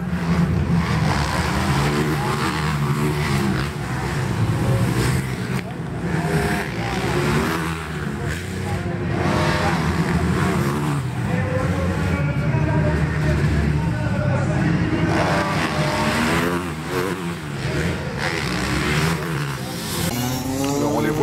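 A Citroën race car competing at the Superbiker motor race in Mettet, its engine roaring and revving through gear changes alongside passing traffic, loud and sustained, with a commentator talking over the racing throughout.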